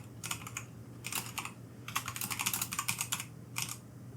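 Fingers type a welcome message on a computer keyboard in quick bursts of crisp, close keystrokes separated by short pauses. A low steady hum runs underneath.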